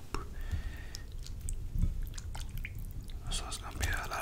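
Close-miked eating of bean soup with tortillas: wet chewing and soft slurps with faint mouth clicks, steady and intimate, under occasional whispered talk.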